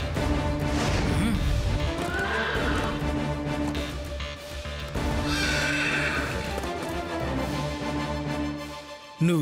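Horses neigh loudly several times while hooves clip-clop in a running rhythm, close and busy, with a sharp knock at the very end.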